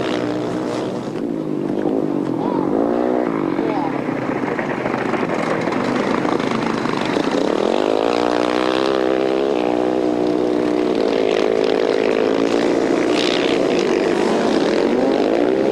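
Husaberg enduro motorcycles racing at the 1995 Erzberg event, a loud continuous engine whine that rises and falls in pitch as riders rev and shift, with several bikes blending near and far.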